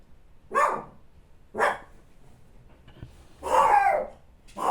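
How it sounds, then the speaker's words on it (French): Dogs bark in four short, sharp bursts spaced about a second apart, fairly close and loud against an otherwise quiet background. "excusez-moi pour le bruit avec les chiens"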